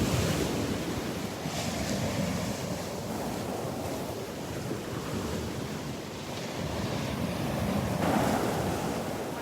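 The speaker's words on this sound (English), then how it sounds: "Let's listen to the waves for a few minutes." Steady surf breaks on a beach at Delnor-Wiggins, a wide unbroken roar of waves rising and falling gently, mixed with wind rushing across the microphone, no one speaking.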